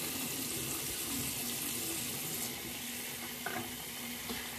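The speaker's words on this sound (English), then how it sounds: "So pardon the running water again." A tap runs steadily at a bathroom sink during a soap rinse, with a continuous broadband rush of water throughout and no talking.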